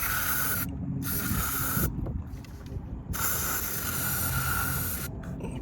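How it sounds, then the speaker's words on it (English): Carb choke cleaner sprayed into an outboard engine's carburetor: close, hissing aerosol bursts, three long sprays separated by short gaps, with a brief final puff. "a little bit of love from the good old carb choke cleaner inside of the carburetor."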